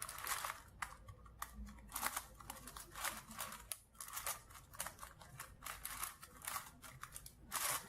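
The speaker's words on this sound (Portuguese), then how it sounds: "Vamos embaralhar esse cubo aqui para ver como é que ele fica." A MixUp puzzle cube gets scrambled by hand, its plastic layers turning in quick, dense clicking and rasping bursts, close and faint with no speech.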